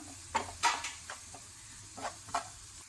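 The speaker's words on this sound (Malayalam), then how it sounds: "ഇനി നമുക്കിതെല്ലാം കൂടി ഒന്ന് വഴറ്റി കൊടുക്കാം." Green chillies, finely chopped, sautéed with salt in a pan while cooking a chicken idli filling: a few soft sizzles and stirring scrapes spaced out over a quiet background, close and fairly faint.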